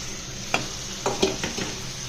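Prawns cook in a ground curry paste, a soft low sizzle with a few distinct stirring clinks and scrapes against the pot.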